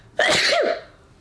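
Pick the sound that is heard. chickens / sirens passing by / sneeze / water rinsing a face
sneeze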